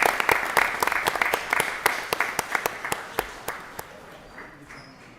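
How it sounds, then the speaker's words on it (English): Applause at a Board of Education meeting, a modest room of people clapping with distinct sharp claps that thin out and fade to near silence toward the end. "Give them a round of applause."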